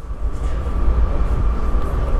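A two-car diesel railcar on a local stopping service runs through a rural station near Swindon, England, giving a steady low rumble with a faint engine drone, close and continuous throughout.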